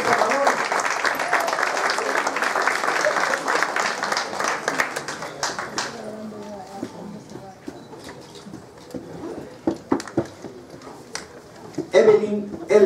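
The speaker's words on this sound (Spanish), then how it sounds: "José Iglesias de El Salvador, un fuerte aplauso," Audience at a Central American independence event in Queens, New York, applauds loudly for about six seconds, then the clapping fades to scattered claps as a voice talks over a quieter crowd.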